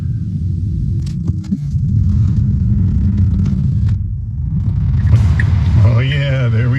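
Tesla Model 3 Highland pulling away in reverse, a steady low road rumble and cabin hum throughout, close and fairly loud, with faint voices underneath.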